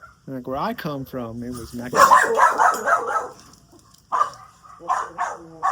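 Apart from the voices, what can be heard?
dogs barking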